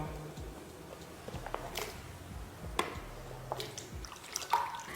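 Cut vegetable pieces drop into a bowl of plain water in a home kitchen, making a few soft, close drips and plops against a quiet background.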